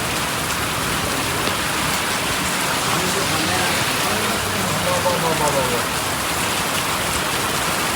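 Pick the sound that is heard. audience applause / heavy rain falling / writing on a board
heavy rain falling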